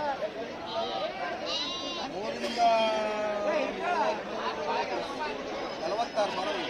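Goats bleat at the weekly Wednesday morning sheep and goat bazaar in Honnalli, Karnataka, with wavering calls rising over steady crowd chatter and bargaining voices nearby.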